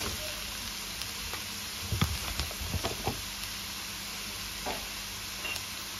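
Kefta meat for a Moroccan panini goes into a hot pan, setting off a steady loud sizzle with a few soft thuds and stirring scrapes as it lands.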